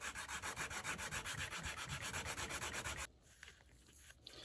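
Coarse 80-grit sandpaper scrubs wooden knife scales on a knife kit in fast, rhythmic strokes, a loud close rasping that stops abruptly, leaving faint handling noises.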